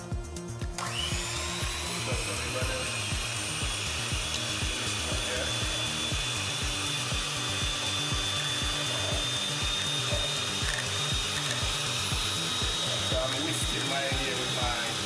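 A small electric mixer whisks three eggs: a steady, loud motor whir that runs almost without a break after the first second, with a fast rhythmic churning underneath.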